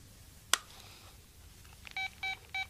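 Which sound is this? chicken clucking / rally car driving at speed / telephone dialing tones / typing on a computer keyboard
telephone dialing tones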